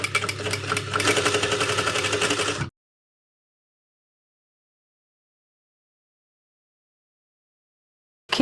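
Sewing machine stitching along the top edge of a shirt collar, a steady fast mechanical whir running for a couple of seconds before stopping abruptly into silence.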